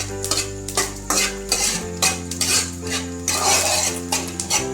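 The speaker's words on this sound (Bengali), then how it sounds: "আমি 2টো শুকনো লঙ্কা এখানে দিয়ে নেব। এরপর একটু নেড়ে নেব।" Two dry red chillies stirred in a hot pan after whole-spice tempering, a series of rhythmic metallic scrapes and clinks of a spatula against the pan over a faint sizzle, close up with no talk.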